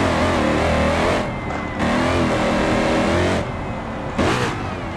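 A Ford Mustang in BeamNG.drive revs loudly and continuously. The engine note rises and drops with two brief cuts as gears engage, and the sound is close and steady throughout.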